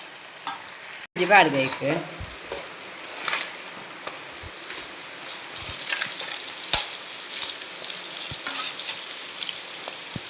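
Crab sukka frying in a pan gives a steady, close sizzle with stirring scrapes throughout, and a voice speaks briefly near the start.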